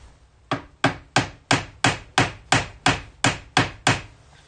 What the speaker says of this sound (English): I am whacking it with a hammer